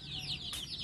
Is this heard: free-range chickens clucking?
yes